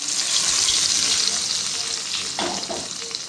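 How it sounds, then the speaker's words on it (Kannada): Mustard seeds, cumin, chana dal and urad dal sizzle and crackle in hot oil as a tempering for chutney, a loud, steady frying hiss with brief stirring scrapes toward the end. "ಈಗ ಚಟ್ನಿಗೆ ಒಗ್ಗರಣೆ ಕೊಡ್ತಾಯಿದ್ದೀನಿ"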